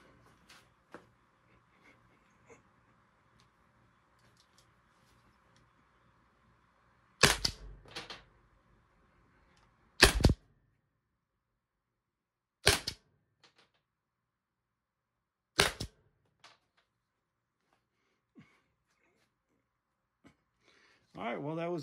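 A Byrna LE less-lethal launcher fires out the rest of its magazine: four sharp, loud pops spaced about three seconds apart, with faint handling clicks in between and near silence around them.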